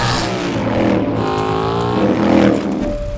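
An Indian racing motorcycle accelerates on a race track with a loud, close engine note that climbs in pitch, dips briefly, then rises again.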